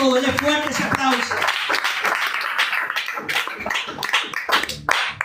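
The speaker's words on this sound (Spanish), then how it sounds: "Denle fuerte ese aplauso" Church congregation clapping along, a dense patter of many hands building after a preacher's voice and continuing under ongoing talk.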